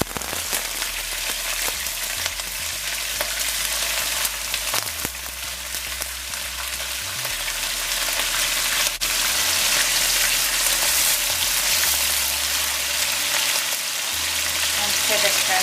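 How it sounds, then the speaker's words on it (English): Shrimp fry in hot oil with a dense, loud, continuous crackling sizzle that holds steady throughout, with a faint low hum and occasional background speech. "The first thing I'm going to do is to fry the shrimp"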